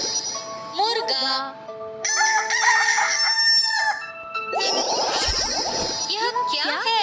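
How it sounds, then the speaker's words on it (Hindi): A rooster crows loudly and close several times in quick succession, its long rising-and-falling calls overlapping with clucking fowl and a bright tinkling chime in the background. "मुर्गा"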